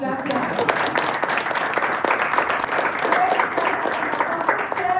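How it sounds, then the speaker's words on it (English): A Toastmasters meeting audience claps for a tall tale contest, a dense, even round of applause that holds steady throughout, with voices mixed faintly into the clapping. "Give a round of applause."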